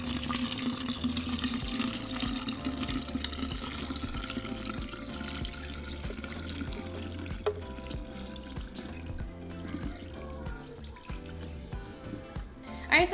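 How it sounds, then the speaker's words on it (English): Blended pineapple and mango agua fresca is strained into a pitcher, a steady liquid stream with trickles and drips over a low background hum. "So strain it into your pitcher."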